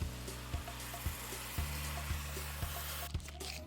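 Water pours and trickles into a cooking pan of oil and peanuts, a steady close splashing fill with faint sizzling underneath, no talking.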